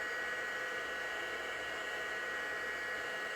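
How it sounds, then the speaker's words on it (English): A heat embossing tool blows a continuous, even hiss of hot air over a stencilled floral card, steady and moderately loud from start to finish. "I really need a quieter heat one, don't I? But it does emboss beautifully."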